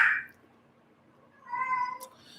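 A house cat lets out a short, fairly close meow indoors, the sound rising and falling alone after a brief faint noise at the start.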